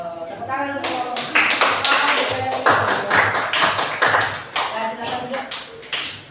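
Classroom applause from a group of students, a burst of many hands clapping for several seconds with fluctuating intensity, a teacher's voice heard at the start.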